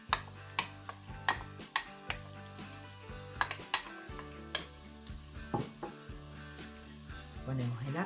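Chopped onion and vegetables sizzle in hot oil in a pan, a steady frying hiss broken by sharp regular clinks and scrapes of a utensil stirring against the pan, close and moderately quiet, with no voices.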